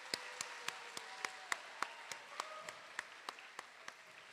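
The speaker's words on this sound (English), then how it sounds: "Now let's have another round of applause for all of our award winners this morning." Audience in a school auditorium applauding award winners, heard as a fairly faint, evenly spaced series of single claps, about three per second, distant and roomy, with no voices over it.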